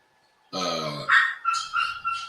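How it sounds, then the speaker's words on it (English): A dog barks loudly and close by, starting with a long harmonic bark-growl followed by a quick run of four sharper barks. "See, this dog is going crazy."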